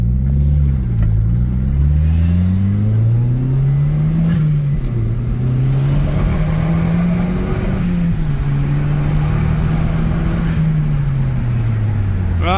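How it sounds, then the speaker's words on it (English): A car engine in a mechanic's garage revs up and down in long sweeps, loud and close, with uneven stumbling pulses of misfiring under the throttle. "So there's a little bit of misfiring."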